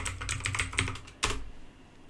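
Typing a command on a computer keyboard in a Windows setup, a quick run of close key clicks followed by a single louder keystroke, then quiet.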